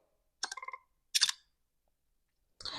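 Ray-Ban Meta smart glasses capturing a photo: a short series of chime-like tones, then a crisp shutter snap, and after a silent gap another brief burst of sound.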